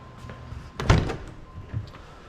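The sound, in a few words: car door being closed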